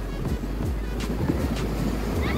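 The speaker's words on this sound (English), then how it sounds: "this joint's throwing some big, big waves out. I know y'all hear it." Big ocean waves at a beach make a constant, heavy wash of surf with a low roar, mixed with strong wind buffeting the microphone.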